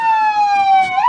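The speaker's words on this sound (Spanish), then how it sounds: "Una ambulancia" An ambulance siren wailing loudly and close during a road-assistance parade, a strong steady tone that slides down and sweeps back up near the end with no talk over it.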